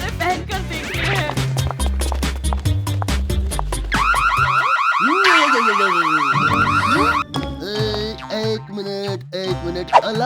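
A shop security alarm goes off in an animated cartoon, a loud electronic warbling siren with rising and falling tones over lively background music and sound effects, with character voices chattering around it.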